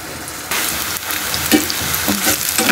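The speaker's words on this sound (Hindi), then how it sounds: "ये प्याज हमारा फ्राई हो जाएगा" Sliced onion sizzling in hot oil in a pan, a steady, loud crackling fry with a sudden surge as more food hits the oil, then bubbling spatter.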